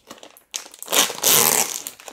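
A plastic packet of Vietnamese chili powder crinkles loudly up close as it is torn open, a short rustle followed by a louder sustained burst of crumpling.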